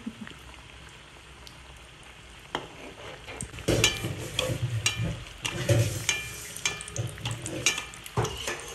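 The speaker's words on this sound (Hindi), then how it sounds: "आप धीरे हॉट ऑयल में छोड़िए इसको।" Food being slipped into hot oil for frying. After a quiet start, a dense sizzling crackle swells up and keeps spitting and popping, with occasional clinks, fairly close.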